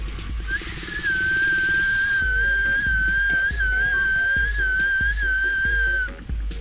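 A steady high-pitched whistle of air escaping from a scuba tank, loud and close, holding a nearly constant tone for several seconds with slight wavers before cutting off.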